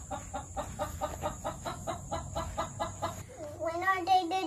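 Hens at a chicken house give a steady run of rhythmic clucks, close and fairly loud, then shift into higher drawn-out squawking calls toward the end, with no talk over them.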